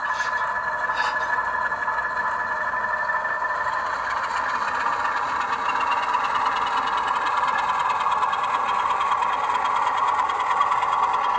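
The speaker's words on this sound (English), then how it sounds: "now I'll kick up the RPMs a bit and you can hear that whine of the turbocharger" A steady mid-pitched engine drone from a model Alco S2 locomotive sound decoder with a sustained high turbocharger whine layered on top, running continuously and fairly close, with no voices.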